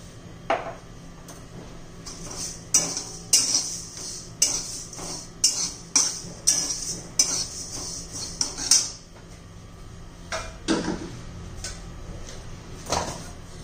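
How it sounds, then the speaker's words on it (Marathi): Fenugreek seeds being dry-roasted in a pan, stirred with a metal spoon, making a series of sharp clinks and scrapes in an irregular rhythm, close, with no talk. "छान असं खमंग होईपर्यंत आपण भाजून घेऊया."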